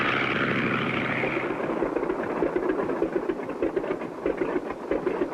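A cartoon propeller airplane engine drones steadily as the plane circles in to land, a continuous loud buzzing hum that holds throughout without a break.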